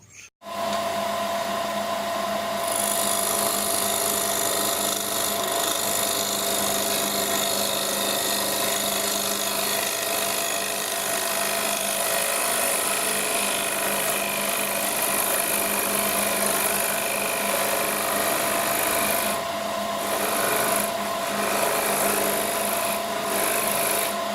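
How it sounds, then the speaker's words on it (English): A lathe turns down the bottom of a wooden pot to form a tenon, a continuous close scraping and rasping of the cutting tool against spinning wood with the motor humming beneath, no talking. "Turning the bottom of the pot down there so it can create a tenon to remount in the lathe jaws."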